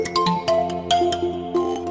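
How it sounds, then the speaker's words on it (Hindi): An incoming-call phone ringtone plays as a bright, fast electronic melody of repeating chiming notes, loud and close with no talk over it. "कोई आपको फोन कर रहा है।"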